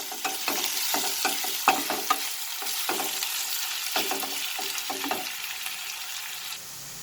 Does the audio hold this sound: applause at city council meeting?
no